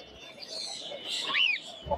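Pet birds at a busy bird market, budgerigars and cockatiels among them, give faint, scattered chirps and short whistled tweets, with one rising call standing out near the end amid a quiet background.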